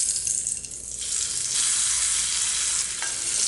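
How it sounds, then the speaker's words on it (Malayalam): Fried mustard seed tempering poured into a tomato mango curry, a quiet stir for the first second, then a sudden loud hiss and crackle of sizzling that holds steady to the end. "കടുക് വറുത്ത് ഞാൻ ഈ കറിയിലേക്ക് ചേർത്ത് കൊടുക്കാൻ പോവുകയാണ്"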